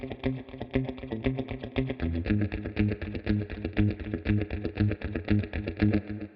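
Electric guitar playing a repeated rhythmic riff with a delay effect, steady and upfront, each note trailed by faint echoes.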